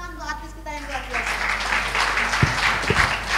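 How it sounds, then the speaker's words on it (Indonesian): A church congregation at a Sunday service applauds a performer, a dense wash of clapping swelling in after a fading tone and continuing through to the end, with a few louder thumps near the close. "Tepuk tangan untuk artis kita yang luar biasa."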